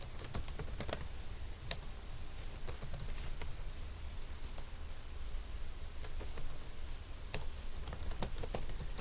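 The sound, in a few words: typing on a computer keyboard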